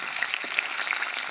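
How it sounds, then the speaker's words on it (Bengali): Native duck eggs fry in hot oil for a rural-style egg curry, a steady bright sizzle with small pops and crackles throughout, close and fairly loud. "ডিমগুলোকে উল্টে পাল্টে লাল লাল করে ভেজে নেব"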